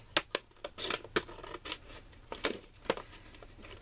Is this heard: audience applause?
no